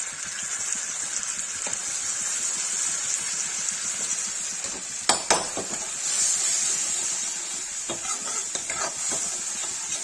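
Hot oil sizzling in a pan while cooking bitter gourd bhujia, a steady frying hiss throughout with a few clinks and scrapes of a utensil against the pan midway.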